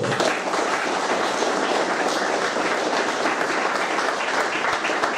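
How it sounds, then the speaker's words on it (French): An audience at a hotel in Fort-Dauphin, Madagascar, applauds a gold medal winner, loud, dense continuous clapping held at an even level throughout, with no voices standing out. "On peut leur applaudir beaucoup plus fort."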